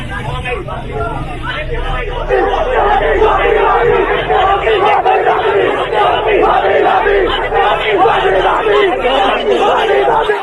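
A large crowd chants slogans together in a dense, steady roar of many voices, loud and continuous for several seconds and blended with general crowd noise.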